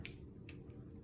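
Scissors snip through washi tape during card and journal crafting, a few quick faint cuts close by with no talk.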